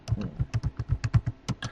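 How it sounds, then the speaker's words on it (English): A password typed on a computer keyboard: about a dozen crisp, close keystrokes in a quick, slightly uneven rhythm, loud and clear with no speech. "I'll type in a random password"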